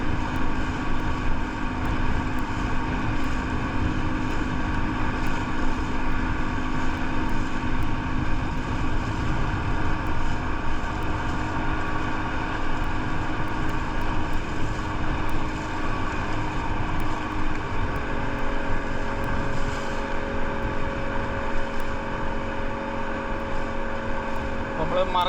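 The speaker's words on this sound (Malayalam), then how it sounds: "ഇന്ത്യൻ ഓഷ്യനിൽ കൂടിയാണ് നമ്മൾ ഈ ബനാന ബോട്ട് പോകുന്നത്." A motorboat towing a banana boat across the Indian Ocean off Musandam, Oman, drones steadily and loudly throughout, with wind buffeting the microphone and a slight shift in engine pitch near the end.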